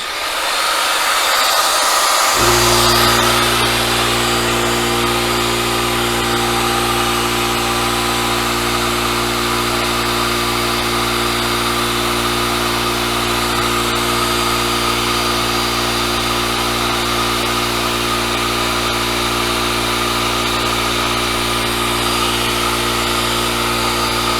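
Two circular saws and a space heater draw power from an EG4 6kW 6000EX-48HV split-phase off-grid inverter, kicking in after a brief quiet start and then holding a loud, steady, broadband motor whine with a constant hum underneath, no talk.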